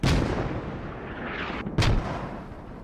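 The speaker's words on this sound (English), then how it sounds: "Oh, British mortars!" British mortar fire in the military shooter game Squad: two heavy, booming blasts land close together, each followed by a rumbling tail over a continuous low roar.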